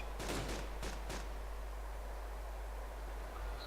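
Several sharp gunshots from the DayZ video game crack in quick succession near the start, fairly distant and faint over a steady background hiss, followed by quiet ambience.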